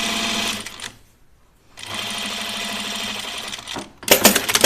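A sewing machine top stitches a men's button-up shirt in two steady, close runs of rapid stitching separated by a short pause, ending with a louder burst.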